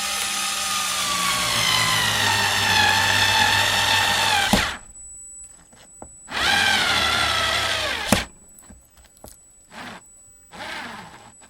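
A Black and Decker Gyro cordless screwdriver drives a screw in two loud whirring bursts that rise and strain, followed by short quieter clicks and bumps between pauses; nobody speaks.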